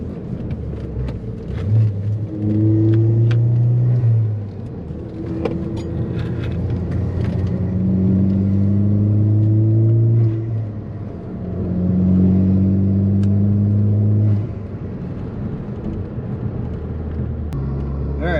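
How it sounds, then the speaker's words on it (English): A Ford Focus ST engine revs up and eases off several times as it shifts through the gears, a steady loud rumble rising in pitch with each pull. "let you hear the car as it rolls through the gears"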